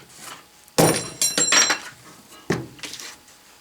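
A Stanley bolt cutter snaps through 3/16 inch brass-plated steel rod, giving a sharp metallic clack followed by a few clinking, ringing hits as the pieces drop, close and without talk.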